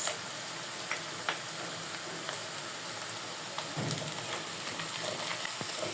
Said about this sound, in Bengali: আমি এই তেলের ভিতরেই রান্নার জন্য পেঁয়াজ দিয়ে দেবো